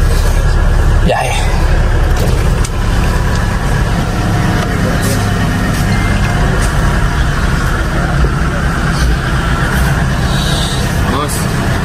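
Vehicle engines warming up before a trip, a steady low idling rumble close by that runs throughout, with people talking over it.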